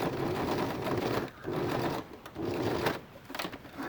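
A sewing machine top stitches down a denim top, running in three steady whirring bursts separated by brief pauses, close and fairly loud.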